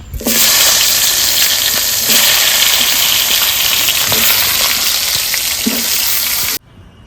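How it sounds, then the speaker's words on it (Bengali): Eggplant pieces frying in hot oil give a steady, loud sizzle that runs unbroken for several seconds, with faint clinks from a utensil now and then, then cut off abruptly near the end. "মাছ ভাজা হয়ে গেছে তেলে বেগুনগুলো ভেজে নেব"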